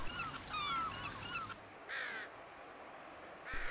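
Gulls cry in short, harsh bursts over a salmon spawning stream, with a quick cluster of calls followed by two separate squawks against a soft, steady background hiss.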